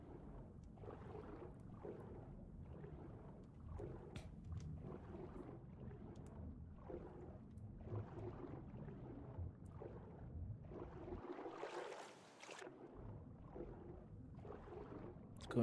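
Wooden raft drifting across open sea in the survival game Raft, a steady wash of water and wind with soft rhythmic sloshing, continuous and moderately loud, with a brief dip in the low rumble near the end.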